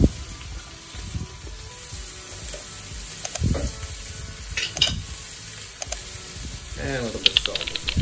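Two large onions hitting hot vegetable oil in an Instant Pot for a lentil and potato curry, giving a faint, steady sizzle with scattered stirring clatter and bumps, no talking heard during it.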